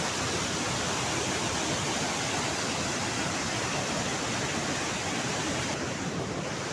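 Devpahari waterfall at Govind Jhunj in Korba, Chhattisgarh, pouring as a steady, loud, dense roar of rushing water that fills the whole stretch without a break.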